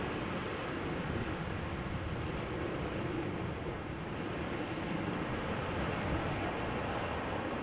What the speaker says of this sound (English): I can also hear an Embraer 190 to Hamburg flying over